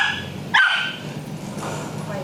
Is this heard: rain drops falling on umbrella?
no